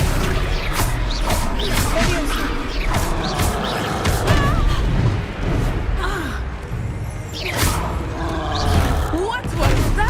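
Spell casting in Hogwarts Legacy: dense, busy game audio with repeated whooshing bursts and crashing magical impacts, a voice speaking over the loud, continuous combat clamor.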